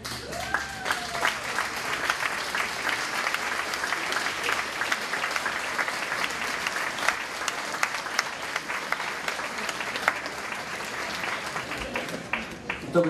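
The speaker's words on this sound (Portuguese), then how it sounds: "que lhe dê uma salva de palmas" An audience applauds at the Festa Graciosense festival in Lowell, a dense, sustained round of clapping that carries on steadily from start to finish, moderately loud and slightly distant, with no talk over it.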